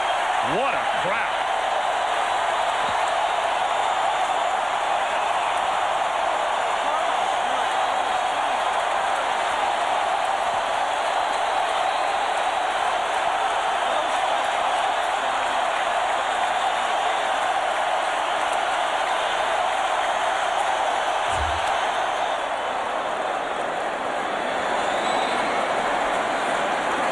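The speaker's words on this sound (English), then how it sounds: "What a crowd." A baseball stadium crowd roars at a 2004 NLCS game between the Cardinals and Astros under a closed roof, a dense, steady, loud wall of noise that continues throughout with a commentator talking over it.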